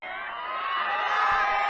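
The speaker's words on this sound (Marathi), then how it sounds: "तरुणांनी टाळ्या शिट्ट्या वाजवत प्रतिसाद दिला आहे" Young crowd at a political rally in Latur roaring with cheers and shouts, a dense, steady wall of voices that swells slightly toward the end, heard close and loud without any separate speech.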